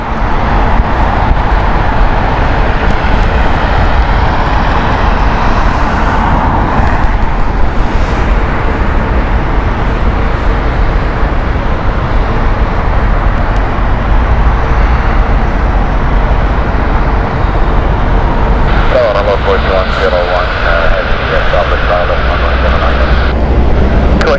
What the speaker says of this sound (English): let's watch the 777 peer through this low flying cloud now